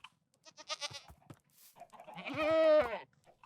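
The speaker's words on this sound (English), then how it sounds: "It's a screaming goat." A screaming goat in Minecraft lets out a loud, drawn-out, wailing bleat after a few shorter squeaky calls, with no talk.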